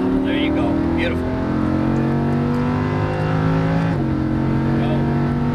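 A Lamborghini Huracan LP610-4 engine pulls hard on a race track, its steady rising harmonics climbing continuously with a brief dip near the end, loud and close throughout, with an instructor's voice talking over it.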